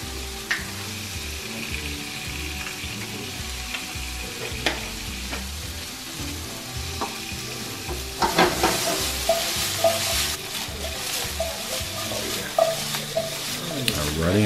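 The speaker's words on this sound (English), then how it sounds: "Sit back and listen to the sizzle." Potatoes and onions sizzle and crackle in a hot frying pan, a steady close hiss that grows louder and busier partway through, with scattered pops and occasional stirring clatter.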